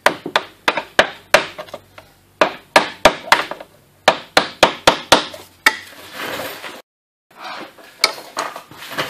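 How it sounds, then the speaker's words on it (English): A hammer strikes a screwdriver against a Honda Civic Si K20/K24 timing tensioner cover plate in rapid bursts of sharp metallic taps, close and loud, pausing briefly between runs. "I'm going to give it a little friendly persuasion with a hammer and a screwdriver."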